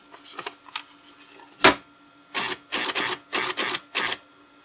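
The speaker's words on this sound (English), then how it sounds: "Let's advance the paper a little bit so we don't have a jam." An IBM 5181 Compact Printer advances its paper with one sharp clack followed by a run of rhythmic, close mechanical rattling bursts, with no voices.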